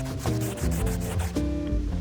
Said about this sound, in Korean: 이 밑창 부분도 더러우니 살짝 한번 닦아줄게요.